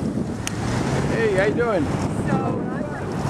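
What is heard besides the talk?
wind blowing outdoors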